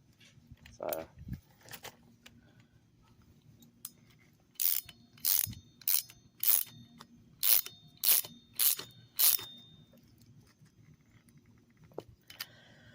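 Suspension bolts on a C10 lowered with Belltech coil springs are snugged with a ratchet, which gives about eight quick, evenly spaced clicking bursts, close and clear, with a few clanks before and after.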